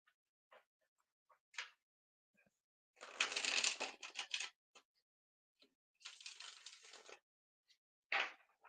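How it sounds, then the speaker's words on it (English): Tarot cards of Total Tarot cardstock are riffle shuffled nearby in two short rapid fluttering bursts, each followed by softer taps and clicks as the deck is squared. "it riffle shuffles really nicely"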